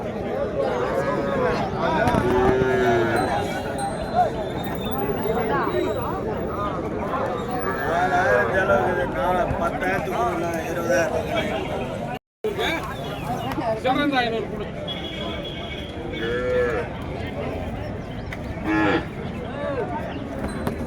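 Calves and cattle moo repeatedly at a cattle market in Madrapalli, with a steady crowd babble and chatter running underneath the lowing throughout.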